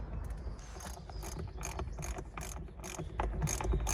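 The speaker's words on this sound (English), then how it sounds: "Just found 2 more bolts. Undo those without stripping the threads or snapping anything, hopefully." Repeated clicking of a ratchet wrench working loose over-tightened bolts on a barn-find Corvette C4 ZR-1, a steady run of close, crisp pawl clicks in short bursts with no talking.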